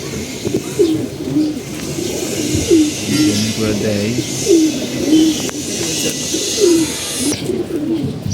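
Several pigeons coo in repeated soft rolling phrases at close range, with a voice talking over them and other birds faintly in the background.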